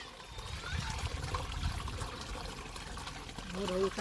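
Continuous splashing water pours steadily from a running borewell pump on a farm, with faint voices and a brief tonal sound near the end.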